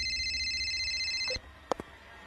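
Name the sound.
phone ringing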